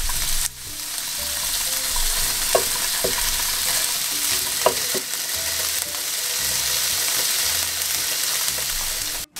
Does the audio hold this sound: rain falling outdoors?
no